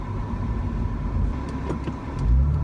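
A Porsche Cayman sports car accelerating on a road, a steady engine drone with a rising surge near the end, heard from inside the car with no talking.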